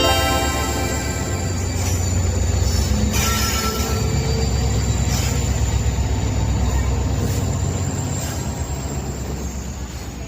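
Inside a moving passenger train, a steady rumbling roar of wheels on rails fills the carriage, with faint rhythmic clatter and squeal running continuously and close by.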